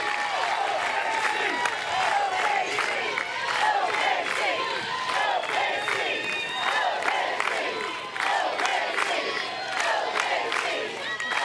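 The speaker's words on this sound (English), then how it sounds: "And you can hear the chants of OKC." A large stadium crowd of Oklahoma Sooners fans chants loudly at a women's college softball game, the rhythmic chanting steady and dense throughout with shouts and claps layered in.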